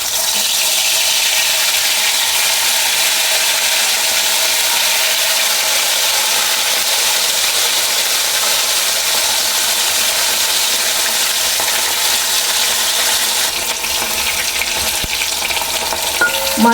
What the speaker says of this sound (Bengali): কড়াইয়ে তেল গরম হয়ে গেছে, এবার মাছগুলো ছেড়ে দিচ্ছি।